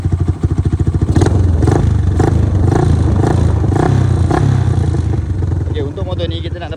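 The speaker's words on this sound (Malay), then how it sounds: "Dia dengan bunyi enjin." A Yamaha LC135 five-speed motorcycle, original full-spec, idles and revs with a steady mid-pitched engine drone and rhythmic throttle blips, loud and close, with faint talking over it.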